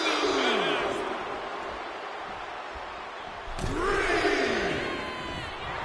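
Capacity arena crowd in the wrestling game WWE 2K26 roaring and cheering, a loud continuous rumble of voices that swells again toward the end, with swooshing impact sounds mixed in.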